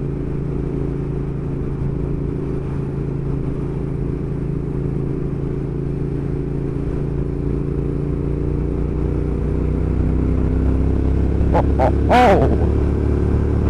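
Triumph Thruxton R motorcycle engine running steadily while riding, a continuous low rumbling drone with a brief sharp exclamation near the end.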